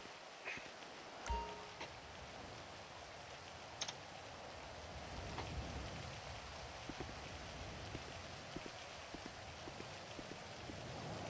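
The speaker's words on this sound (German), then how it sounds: "Also bei dem Regen." Steady rain patters on a surface nearby, a dense even hiss with scattered drips and soft taps, no voices.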